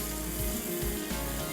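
Yogurt sizzling and frying in a pan for a daal mash dish, a dense, loud, continuous crackle with faint stirring scrapes, close up and without talk.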